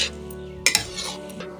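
Shakar para pieces are stirred into cooling sugar syrup with a metal spoon, giving soft scraping and a couple of clinks against the pan.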